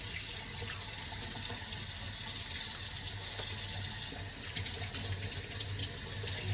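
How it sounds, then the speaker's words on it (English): Tap water runs steadily into a kitchen sink while hands are washed under it, a continuous close splashing hiss with no talking, in a home kitchen during meal preparation. "I'm actually gonna wash my hands"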